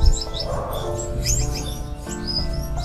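Gouldian finches chirp and tweet in an aviary, several short high calls scattered over a steady low hum and background noise.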